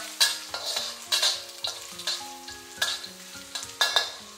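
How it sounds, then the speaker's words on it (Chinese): Garlic and ginger slices stir-fried in peanut oil over low heat, with a soft sizzle under repeated scraping strokes of a spatula against the wok, close and moderately quiet, no talking. "然后下入蒜片和姜片，小火给它煸香。"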